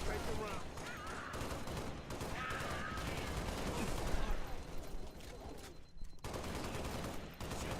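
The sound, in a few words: gunfire in the video game Halo Reach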